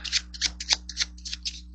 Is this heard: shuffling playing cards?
yes